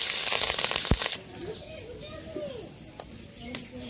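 Green chillies dropped into hot oil left over from frying fish, with cumin, in a village kitchen: a loud close sizzle for the first second that quickly fades to a low crackle, while a voice and other voices sound nearby.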